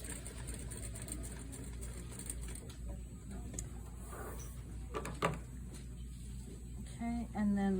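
A sewing machine stitches a sleeve placket, its steady mechanical run sitting low and fairly quiet under close-by speech, with a few sharp clicks and a brief faster burst near the end.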